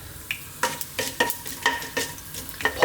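Star anise, green cardamom and black mustard seeds pop and crackle in a hot pan, with sharp irregular pops over a steady low sizzle and a few stirring scrapes, close up, with no talking.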